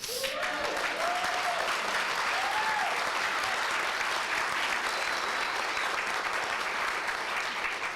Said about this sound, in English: while you've got some applause left